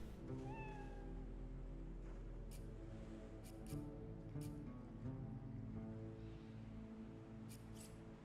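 Cat meowing in the fantasy role-playing game Divinity: Original Sin II, a couple of short rising meows near the start over a layered, humming game soundscape with scattered soft clicks.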